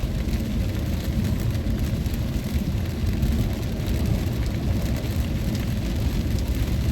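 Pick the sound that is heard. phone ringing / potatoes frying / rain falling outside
rain falling outside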